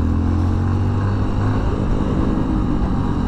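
Honda CRF150L motorcycle ridden through city streets, a steady low engine drone and rumble with wind noise, close and continuous with no speech.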